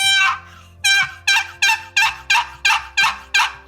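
Wooden turkey box call worked by sliding its paddle, giving eight sharp, evenly spaced raspy yelps, loud and close with no talking.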